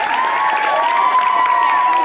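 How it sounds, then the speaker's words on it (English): An audience at a school coffeehouse gives loud, dense applause with some cheering mixed in. It fills the room and sounds close and steady throughout. "So let's give everyone a nice round of applause."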